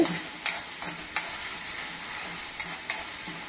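Chili and spice masala fries in hot oil with a soft steady sizzle, while a spoon scrapes and stirs the pan in several distinct strokes, close by and with no voices.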